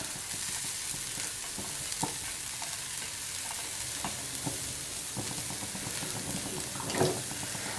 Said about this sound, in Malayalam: ആദ്യം ഞാൻ ഈ തവയിലേക്ക് കുറച്ച് സവോള ഇട്ട് കൊടുക്കുകയാണ്